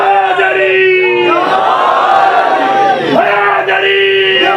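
A large mourning congregation at a Muharram majlis in Karbala roars a drawn-out chant of the religious slogan Haidari in unison, loud and sustained, swelling and falling back in long waves.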